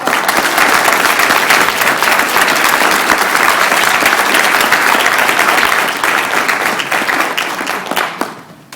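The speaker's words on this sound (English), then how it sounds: "Give them a big round of applause." A large audience bursts into loud, sustained applause at an event, dense steady clapping that holds for several seconds before tapering off near the end.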